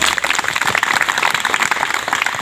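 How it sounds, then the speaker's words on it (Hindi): Audience at a Sarna gathering in Kharsidag, Namkom, Ranchi breaks into steady applause, dense clapping filling the short moment at moderate loudness without pause. "चलिए एक बार ताली बजाइए सर।"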